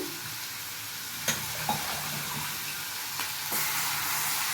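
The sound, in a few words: mint frying with onion and tomato in pan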